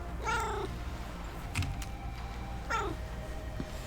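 A cat in a video game gives two drawn-out meows, one near the start and one near the end, rising then falling in pitch over a low steady background hum, close and with no talk.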